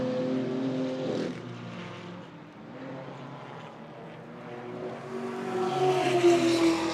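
Race cars, including a Toyota 86 and a white and blue BMW, going through turn 1 at a club racing event, engines droning past at a distance, rising and falling as several cars sweep by, with a louder approach near the end.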